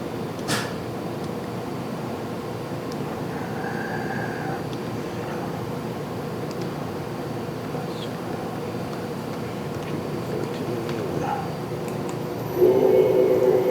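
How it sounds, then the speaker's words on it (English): Sub-spindle of a 2011 Doosan Puma 2600SY multi-axis CNC turning center with an 8-inch chuck, running with a steady mechanical hum and faint whine amid workshop ambience, the tone shifting slightly near the end as the speed changes. "We're going to run the subspindle now."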